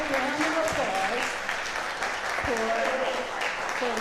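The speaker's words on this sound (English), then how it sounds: "I would like to invite a small round of applause" A small round of applause from an audience for Larry and his team of canvassers, steady light clapping that carries on under a voice speaking.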